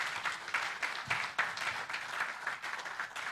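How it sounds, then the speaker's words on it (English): Audience applause at an academic society's tenth anniversary and new-member induction ceremony, a steady wash of many hands clapping that rises and falls slightly and carries on without pause for several seconds. "Please, a round of applause."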